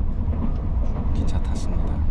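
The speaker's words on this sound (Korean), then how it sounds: "기차 탔습니다" Steady low rumble of a moving train carriage on a ride in France, continuous and fairly loud, with a few faint higher clicks and no clear talking.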